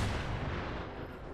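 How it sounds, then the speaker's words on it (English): Booming explosion in Fallout 76, a short heavy blast with a rumbling tail that fades over about a second, loud and alone. "If you like explosions, you're in the right place."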